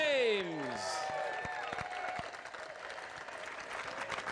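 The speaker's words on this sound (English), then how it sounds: "Big round of applause here, Stephen." Applause from a golf gallery greeting Canadian Stephen Ames on the tee at a skins event, with broadband clapping that runs steadily throughout. A speaking voice is heard at the start, and further voices murmur underneath the clapping.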